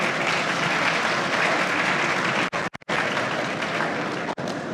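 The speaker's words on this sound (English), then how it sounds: "A round of applause for him." Sustained loud applause from an audience at a 150th anniversary commemoration of the Sagrenti War, dense and steady, with a few brief dropouts near the end.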